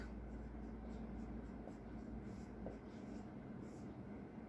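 Equations for a quadratic math lesson are written by hand, producing faint, continuous scratchy strokes under a low steady background hum.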